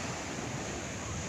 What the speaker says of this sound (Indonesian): Ombaknya gede.